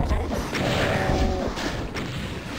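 A rocket launcher fires in the Doom mod Nostalgia 2, giving a loud, dense explosive blast with rumbling, crashing debris over a busy game soundscape.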